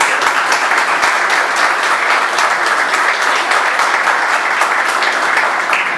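Sustained, loud applause from a press-conference audience welcoming federal deputy Chiquinho Brazão, steady dense clapping throughout with no talk over it.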